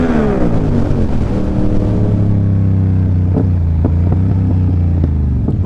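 A Yamaha R7 motorcycle at wide open throttle, its loud engine note falling as it shifts and then holding a steady drone, with a few sharp clicks and pops near the end.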